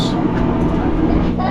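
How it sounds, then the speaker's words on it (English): A blacksmith's bellows pushes air into a forge fire with a steady, close, rushing roar that continues without a break. "Listen to it. Hear it? It's called a bellows."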